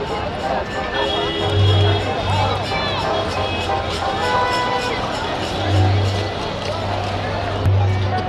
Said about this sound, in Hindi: बहुत भीड़ है, बहुत ज़्यादा भीड़ है